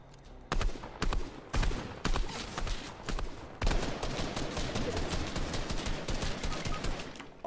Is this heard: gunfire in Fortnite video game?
yes